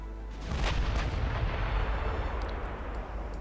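Naval guns from warships in Ultimate Admiral Dreadnoughts roar in a heavy, sustained barrage, deep booming blasts rolling together with no voices over them.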